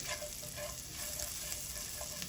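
Two cloves of chopped garlic sizzle and crackle in a pot while being stirred, a steady close frying hiss with small scraping accents and no talking.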